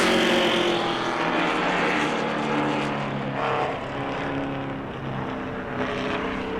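A pro late model race car on a Hoosier Series qualifying lap at New Smyrna roars loudly past at full throttle, the engine's rasping drone steady and close before easing slightly as it moves away, with no talking.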